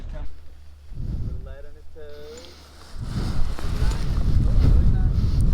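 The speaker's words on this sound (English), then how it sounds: "It's a little windy." Strong wind gusts buffet the microphone in open air, building into a loud roar in the second half. A voice is heard briefly early on.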